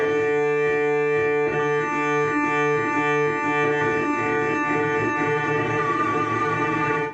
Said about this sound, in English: So we've got 2 signals being fed into a distortion pedal, this one both being played at the same time.